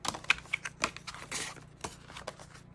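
Paper card trimmed for a side-fold pop-up card, a faint, close series of short crisp snips and scraping cuts with small irregular clicks and a brief rustle in the middle.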